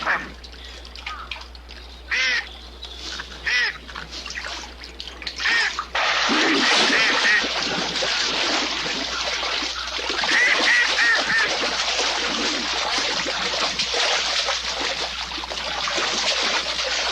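A duck hunted by a bobcat in the wild gives loud, repeated quacks and honking calls that turn into a sustained, dense stretch of noisy calling over rustling, close and without talk.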